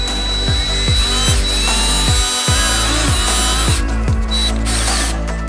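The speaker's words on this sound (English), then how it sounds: "pull it away from the door, that way I can drill the hole. And I'm gonna drill the hole right in here" A power drill bores a hole in the door panel of a Honda Civic, with a loud, close motor whir and rhythmic ratcheting pulses about twice a second as the bit bites, running continuously throughout.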